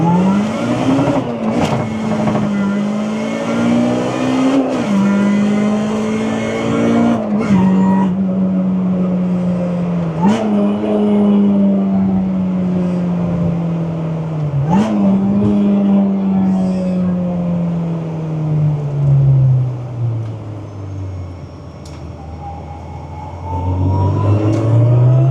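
A supercharged 1992 Honda Civic VX runs hard on a dyno, its loud engine note climbing, dipping briefly at each gear change, then climbing again before winding down at the end.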